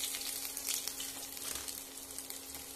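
Ginger sizzling in hot oil in a kadai, a steady close crackle and hiss of frying with faint spattering pops, alone and fairly quiet.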